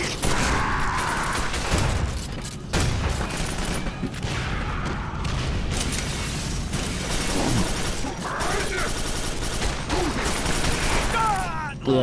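Rapid gunfire from weapons in the first-person shooter Quake 4, played on Nightmare difficulty, a loud dense clatter of shots running continuously with booms and mechanical clanks mixed in.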